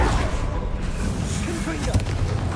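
A Bombarda blasting spell explodes in Hogwarts Legacy on PS5, a loud, dense booming blast with a continuous rumbling roar that fills the whole stretch.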